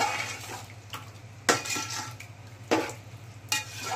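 Chicken is mixed by hand with oil and salt in a bowl for Bangladeshi kacchi biryani, giving a steady low wet squelching and scraping with a few louder clacks against the bowl, close by and with no talk.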